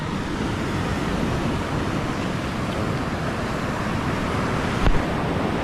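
Sea waves washing onto a shore make a steady, broad surf wash with wind noise over the microphone, and a brief bump near the end.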